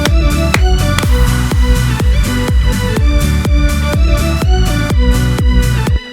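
A remake built with the Serum synth, playing as loud full electronic music with steady rhythmic chords and punchy beats, alone with no talking.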